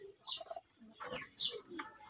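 Pigeons coo and murmur close by in short, separated calls, a few soft bursts rising and falling against a quiet background.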